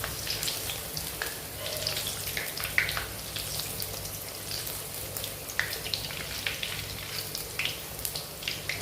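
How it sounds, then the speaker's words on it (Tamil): Vegetable kara samosas deep frying in oil give off a steady, close sizzle with scattered crackling pops throughout, no voices over it. "இதை நல்லா கொஞ்சம் நம்ம ரோஸ்ட் ஆகி தான் எடுக்கணும்."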